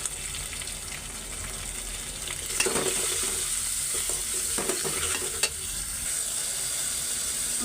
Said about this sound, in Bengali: মশলাগুলি কষে আসছে